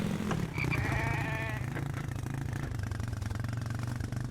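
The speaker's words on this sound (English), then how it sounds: "Oh, they're sheep." A sheep bleats once in a survival video game, a wavering nasal call lasting about a second over a steady low engine-like drone from the game's background.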